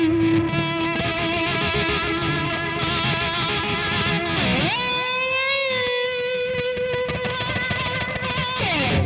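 Distorted electric guitar through a Kemper high-gain profile holds a long sustained note that bends up and rings with vibrato, loud and close, with no one speaking.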